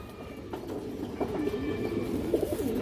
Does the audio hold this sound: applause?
no